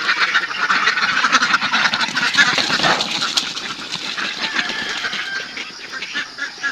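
A flock of ducks quacking on a backyard duck farm, dense overlapping calls close by and continuous, loud and busy.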